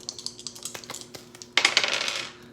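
Two dice rattle and clatter across a tabletop during a game of the Jaws board game, a run of light clicks followed by a sharper burst as they land and settle.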